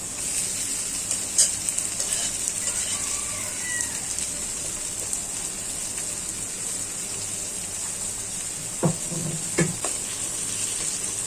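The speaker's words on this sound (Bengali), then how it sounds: "কচুটা বাগা দিচ্ছি" Taro (kochu) tempering and frying in a pan, a constant bright sizzle with soft stirring scrapes and a few clinks of utensil against the pan, no speech.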